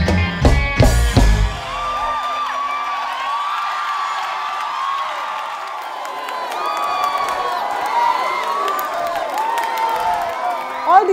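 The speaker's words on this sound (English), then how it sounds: "These applauds are not for me" A television singing-contest audience applauds and cheers, with a loud burst of shouting at the start, then sustained clapping and whoops that continue steadily and swell again near the end.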